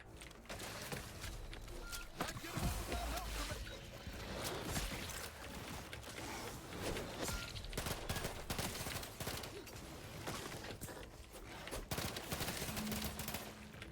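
Gunfire in The Outer Worlds 2, rapid bursts of shots crackling through a busy combat mix, loud and near, with scattered footsteps and clatter between volleys.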